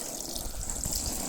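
Water from a watering can trickles and splashes gently over an air mattress being checked for a slow leak, a brief, soft, continuous pour with a light hiss and no voices.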